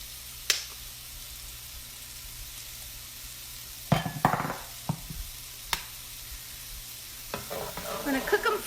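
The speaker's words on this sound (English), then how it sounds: "we're going to go ahead and cook these onions, and we're going to add just a pinch of salt to them" Onions cooking in a pan with a pinch of salt give a soft, steady low sizzle, broken by sharp clinks and scrapes of a utensil stirring, with a busier stretch of stirring near the end.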